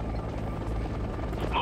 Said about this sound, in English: Do we need to go there and check it out with our helicopters?